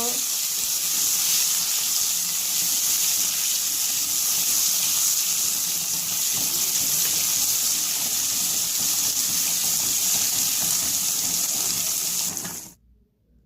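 Cardamom-cinnamon powder and ginger-garlic paste fry in a pan with a steady, close, hissing sizzle, continuing evenly before cutting off abruptly near the end.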